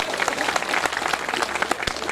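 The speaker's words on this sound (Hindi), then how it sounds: "एक बार जोरदार तालियां बजाकर उनके लिए।" An audience at a Hindi poetry gathering (kavi sammelan) breaks into brisk, dense applause, many hands clapping at once in a sustained burst.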